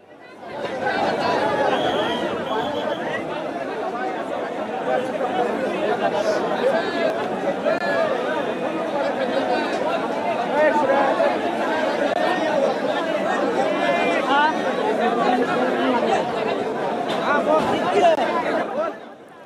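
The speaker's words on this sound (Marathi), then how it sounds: "प्रचंड अशी मोठी गर्दी आपल्याला या सभास्थळाच्या बाहेर पाहायला मिळतेय" A large, dense crowd of union members chatters loudly outside a Gokul milk cooperative meeting venue, a steady unbroken wash of many overlapping voices with no pauses.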